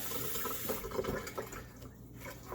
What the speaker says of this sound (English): I am going to run cold water on this so that I can handle it faster